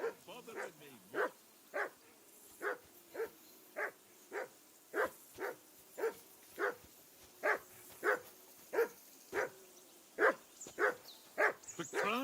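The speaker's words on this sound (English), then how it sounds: "Call off that damn dog before he wolfs down the last of our mates" A dog in the game Kingdom Come Deliverance 2 barks repeatedly in a steady, even series of about twenty sharp barks, moderately close against a quiet background.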